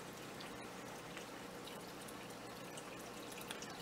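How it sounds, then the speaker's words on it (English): Gentle water trickling from a small waterfall filter in a 10-gallon turtle and fire-bellied toad tank, a steady faint wash of falling water with no talk over it. "Got a little waterfall thing going."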